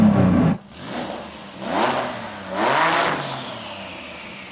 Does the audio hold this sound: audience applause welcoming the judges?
no